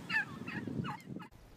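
Wild turkeys gobble nearby in Ecuador, several rapid warbling calls in short bursts over a low rumbling background, loud and close with no talk.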